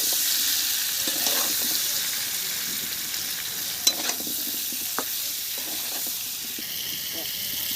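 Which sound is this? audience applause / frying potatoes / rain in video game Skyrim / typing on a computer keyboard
frying potatoes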